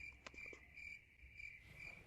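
Crickets chirp in a steady, unbroken trill that runs the whole time, faint and somewhat distant, with no voices.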